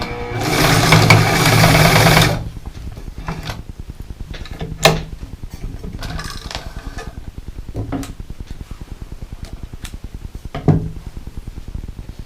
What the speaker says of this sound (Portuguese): E aí vamos testar a costura, vai ficar no ponto reto.